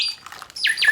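A 19th-century mechanical bird automaton driven by paper bellows gives shrill, piercing chirps and a falling squawk-like whistle, short and close, with no voices.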